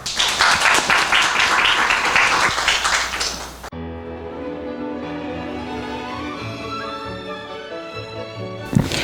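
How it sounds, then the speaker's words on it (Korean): Audience applause fills a university festival presentation hall as new presenters are welcomed to the stage, a dense burst of clapping lasting a few seconds before giving way to music. "큰 박수로 맞이해 주시기 바랍니다"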